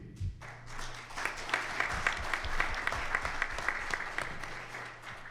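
An audience applauds panelists at a Call to Action 2022 panel discussion, a dense, even wash of clapping that holds steady for several seconds with scattered louder claps.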